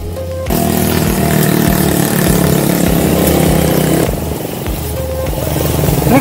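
A motorcycle engine idles loudly and close on a mountain trail at the foot of Gunung Slamet, a steady rough chugging that dips briefly midway and then picks back up.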